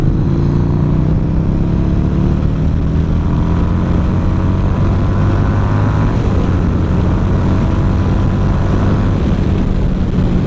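A 2016 Harley-Davidson Street 750 motorcycle rides along, its engine drone loud and constant with a low rumbling throb and rising and falling tones. Steady road and wind noise run underneath, and no one speaks.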